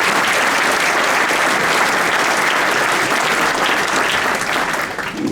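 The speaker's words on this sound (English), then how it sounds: "So give Sister Nosheen another round of applause" A crowd at an interfaith solidarity gathering at the Islamic Foundation in Villa Park applauds Sister Nosheen, a dense, steady wash of clapping that holds loud and continuous before tapering slightly at the end.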